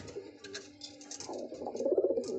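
Pigeons offered for sale coo in low, soft murmurs that swell toward the end, with faint higher background noise and no talking.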